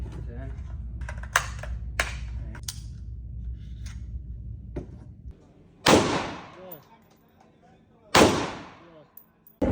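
Gunshots at a shooting range ring out as sharp, loud reports, with two big booming shots near the end each trailing off, after a stretch of smaller clicks and bangs.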